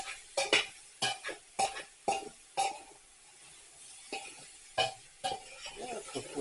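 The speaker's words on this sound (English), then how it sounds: "So once you get everything coated, quick stir." Beef and onion are stirred in a pot for stew, a close series of scraping knocks and clanks from a spoon against the bottom, coming in an irregular rhythm with quiet pauses between strokes.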